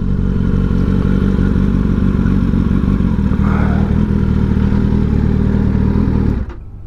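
Kawasaki ZX10R sport motorcycle, a previously crashed bike, engine running close by with a loud steady rumble and rapid mechanical pulsing that cuts off sharply near the end, leaving a quieter background.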